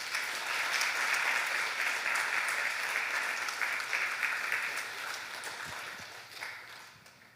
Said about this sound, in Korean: 인사하고 들어가실 때 큰 박수로 환영해 주십시오.